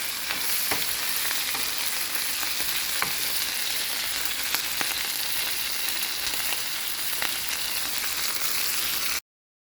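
Steak frying and being basted in butter in a pan, a loud, continuous sizzle with scattered pops and light clinks of utensils, close up and steady until it cuts off.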